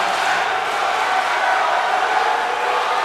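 A large arena crowd in Kansas in the WWE 2K wrestling video game roars continuously for a wrestler's return, a dense, loud, unbroken wall of cheering voices.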